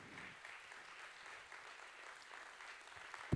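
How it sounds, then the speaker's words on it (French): Audience applause at the closing ceremony of the Atmosphères 2017 festival, a steady wash of clapping from a crowd held at an even level throughout, heard from a distance, with one sharp thump near the end. "Vous pouvez continuer les applaudissements tant qu'elle n'est pas sur scène."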